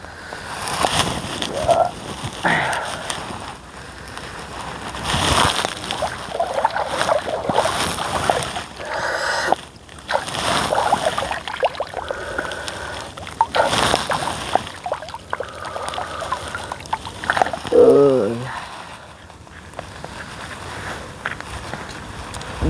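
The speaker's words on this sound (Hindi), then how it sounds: "मैंने बहुत सारा पानी पी लिया, अपनी प्यास बुझा ले" Water splashing and trickling at an outdoor well as someone drinks, with uneven bursts of splashes and gulping over a steady background, close and fairly loud throughout.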